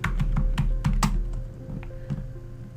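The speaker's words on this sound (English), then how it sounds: "we can just type in what we wrote before" Quick bursts of keystrokes on a computer keyboard, close and crisp, a rapid run of taps followed by a few scattered clicks, with no voices.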